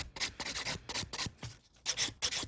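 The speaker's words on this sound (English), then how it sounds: "Using my 150 file, just running over the whole surface." A 150 grit hand file runs over the surface of a fingernail in short, quick back-and-forth strokes, making a close, raspy scratching in an uneven rhythm with no voices.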